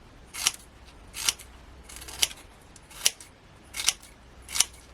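Scissors cutting card for a papercraft project: six crisp, separate snips spaced roughly evenly apart, close up against a quiet background with no speech.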